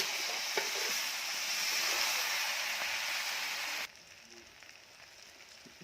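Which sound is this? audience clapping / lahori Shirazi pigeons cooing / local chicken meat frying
local chicken meat frying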